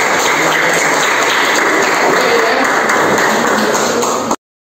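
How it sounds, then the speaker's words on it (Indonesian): Steady, loud applause from a classroom of Grade 7 students, dense and continuous for about four seconds before cutting off abruptly. "tepuk tangan dulu untuk 1 orang"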